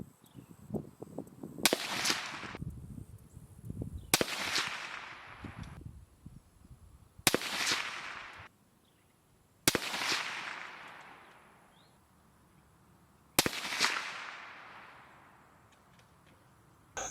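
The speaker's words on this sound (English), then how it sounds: "I'm going to go and throw the suppressor back on it and fire my final 5-round group" A Deadair Primal suppressed rifle fires a five-round group: five sharp, widely spaced reports, each trailing off in a long outdoor echo, with quieter sounds in between.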